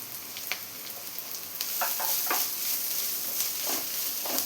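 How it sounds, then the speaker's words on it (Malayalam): Grated coconut sautés with onions and green chilli in a pan for upma, giving a continuous close sizzle with a few scraping stirs that grow slightly louder midway. "തേങ്ങയും കൂടെ ഒന്ന് ചെറുതായി വഴറ്റി കൊടുത്തിട്ടുണ്ട്."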